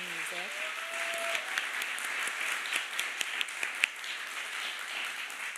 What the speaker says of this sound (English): Can we just get another round of applause for Amanda's moving music?